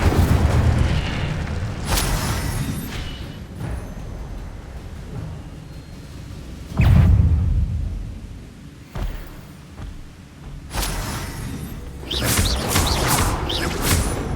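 Spell effects from Hogwarts Legacy, the Incendio fire spell among them, burst out in several loud booming whooshes, with a heavy blast near the middle and more bursts toward the end. Game ambience fills the gaps.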